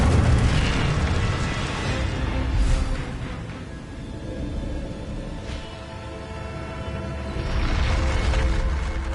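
A fiery Incendio spell erupts in Hogwarts Legacy with loud, sustained roaring bursts, swelling at the start and again near the end, dipping to a lower rumble in between.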